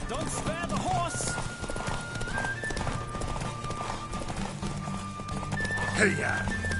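A horse gallops at full speed in Witcher 3, its hooves keeping up a rapid, even clip-clop under music and spoken voices throughout.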